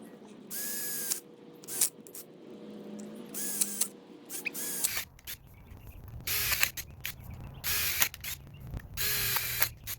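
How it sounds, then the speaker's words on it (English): Repeated short whirring bursts of a power drill boring holes in a compost aeration pipe start and stop in an irregular rhythm, with clicks and rustling between them, fairly close. "so now we'll just go ahead and drill holes in it."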